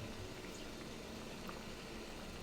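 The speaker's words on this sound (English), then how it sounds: "Bring the water to boil" Water comes to a boil in a wok set up for steaming a tapioca layer cake, giving a steady, faint bubbling hiss that runs evenly throughout without voices.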